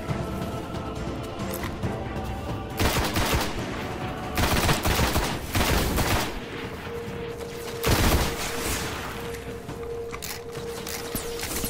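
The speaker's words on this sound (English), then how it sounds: "Bring out the shotgun." Shotgun blasts in the video game Destiny, several loud booming shots spaced irregularly over a dense bed of in-game combat noise and gunfire.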